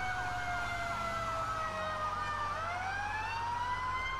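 A ladder truck's wailing fire siren in a GTA V FiveM roleplay game, rising and falling in rapid yelping sweeps, steady and fairly quiet over a low engine drone, with no talking.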